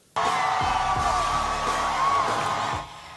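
A crowd at Kamala Harris's concession speech cheering and whooping, a loud dense roar that starts abruptly, holds for nearly three seconds and then drops away.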